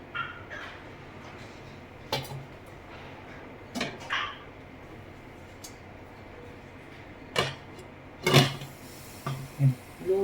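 A lid goes over a pan on a stove set to low heat while a breakfast dish cooks in a home kitchen, with a few scattered metallic clanks and knocks, the loudest near the end, amid quiet kitchen sounds.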